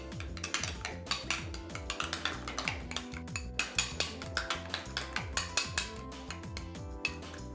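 A spoon stirs a sauce of tomato paste, sour cream and salt in a bowl, clinking quietly against the sides in a quick, steady rhythm of taps and scrapes.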